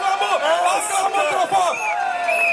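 A political rally crowd cheers and acclaims loudly, mixed voices shouting and whooping in a dense, continuous wave close by.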